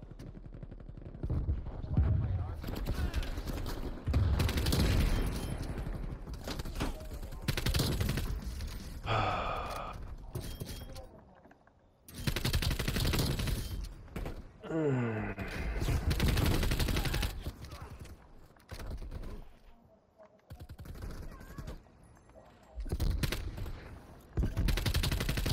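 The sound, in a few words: gunfire in Call of Duty Black Ops video game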